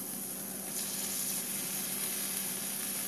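Fish pieces fry in hot oil in a pan as a steady, even sizzle with a soft hiss throughout, close and continuous with no talk.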